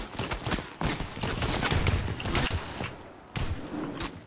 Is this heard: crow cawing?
no